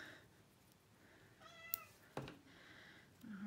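A house cat meows a few times nearby, one drawn-out call and a couple of shorter ones, over quiet room tone with small handling noises.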